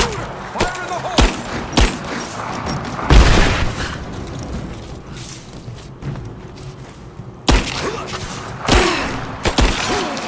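A grenade goes off in Rise of the Tomb Raider, with a heavy boom amid scattered gunshots and thuds in a busy combat scene; a few loud blasts stand out at intervals.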